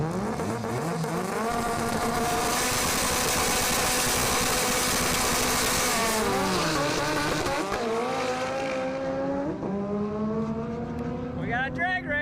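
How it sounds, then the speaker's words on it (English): Cars drag racing side by side, one all-wheel drive and one front-wheel drive including an RSX, roar loudly past with engines revving up through the gears and pitch sweeps as they pass. "We got a drag race side by side."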